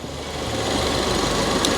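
A Ford Fiesta ST180 engine, its vacuum line repaired after a rough idle, runs steadily at a fast idle, a loud continuous rumble with a light rattling hum, close by and unbroken.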